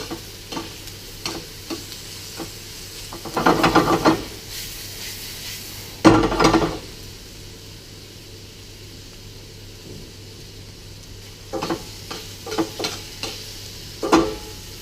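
Steak searing in a pan over high heat, a steady soft sizzle broken by louder bursts of stirring and scraping against the pan at intervals, with no talk.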